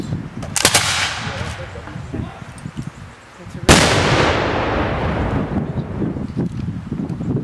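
A ceremonial rifle volley rings out at an outdoor Fourth of July tribute held by a Sons of the American Revolution group, with two loud sharp cracks a few seconds apart and a lingering outdoor echo and crowd murmur after each.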